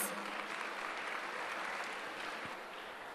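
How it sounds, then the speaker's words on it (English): Audience applause welcoming a presenter at a technical session on TDS compliance: steady, dense clapping from a seated crowd that holds evenly for the whole stretch at a fairly low level. "Please welcome her with a huge round of applause."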